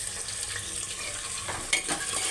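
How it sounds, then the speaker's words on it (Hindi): Goat kidney and liver fry with onions in hot oil in a pan, giving a close, steady sizzle with a few scraping stirs and no talk. "2 मिनट के लिए ही भून लेते हैं, इस तरह से हम भून लेते हैं इसको।"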